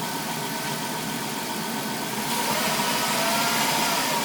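A 2002 Dodge Caravan 3.3 engine idles after a cylinder head gasket replacement: a steady, even hum with a low mechanical rumble and faint ticking, getting slightly louder partway through, with no voices.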